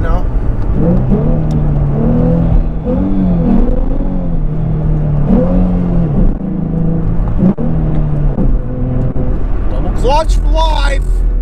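Ford Mustang engine revving through a clutch-assisted downshift, repeated rising and falling engine tones over a steady road rumble inside the car, with someone talking over much of it.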